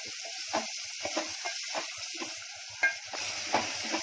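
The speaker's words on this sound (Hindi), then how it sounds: "अब इसको थोड़ा भूनूंगी 2 मिनट" Prawns fry with onions in a pan while a spoon stirs them. A steady close sizzle carries rhythmic scraping strokes about every half second, and no one speaks.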